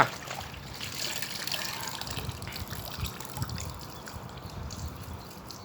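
Water trickling and splashing as hand-washed clothes are rinsed in clean water, a steady soft pour and slosh at close range with no talk.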